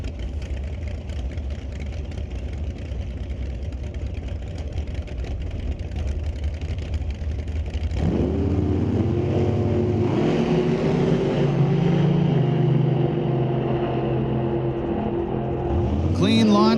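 Two drag cars launch side by side, a nitrous-fed 632 V8 1971 Chevelle and a 1966 Chevy II, their steady mid engine idle swelling into a loud, roaring surge of revving engines that holds for several seconds.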